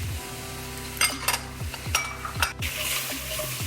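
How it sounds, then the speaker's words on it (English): Spoon stirring chickpea noodle soup with thyme and bay leaves in a pot, a steady low simmer broken by several sharp scraping knocks against the pot sides, close and fairly quiet. "Stir that in."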